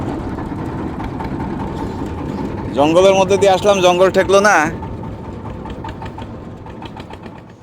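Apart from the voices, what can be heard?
trawler boat engine running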